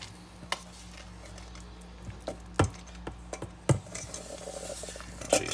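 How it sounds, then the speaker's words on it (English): Zucchini bread batter scraped from a bowl into a loaf pan, soft scraping with several sharp clinks and taps of utensil on bowl and pan, close and sparse. "It's as simple as just scraping it right into the loaf pan."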